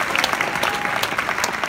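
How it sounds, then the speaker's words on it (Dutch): Audience at the Vondelpark open-air theater in Amsterdam giving a comedian's guest a loud round of applause, dense steady clapping with a few crisp individual claps standing out. "Maar nog één keihard applaus voor Claude Legungu"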